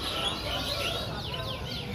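Canaries trill and chirp among the caged birds of the Prambanan bird market, high rapid phrases repeating across the stretch while crowd murmur and bustle fill the background.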